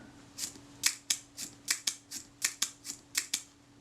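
Agfa Record II folding camera shutter fired over and over, about a dozen crisp, near mechanical clicks in an uneven rhythm over a faint steady hum, with no talk.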